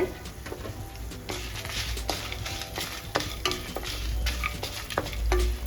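Long pepper and a small lump of asafoetida dry-roasting in a pan, with a soft continuous crackle and scraping stirs from a utensil, fairly quiet with no voices.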